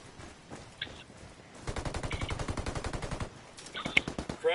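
Rapid automatic gunfire rattles in a Ghost War gunfight as a dense burst of evenly spaced shots, close and loud. Brief electronic game cues sound before and after it.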